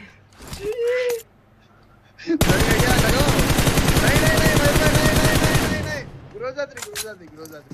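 Loud, rapid automatic fire from a Groza rifle in BGMI, a sustained burst of several seconds with close single shots around it and players' gasps and talk.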